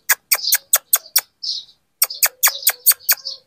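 A person makes sharp, repeated kissing chirps in quick bursts, imitating a sparrow's call, close and clear with brief pauses between groups.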